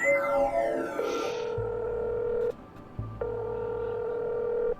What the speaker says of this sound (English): let's try calling Regis first of all